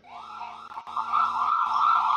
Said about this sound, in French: Donc une sirène basique.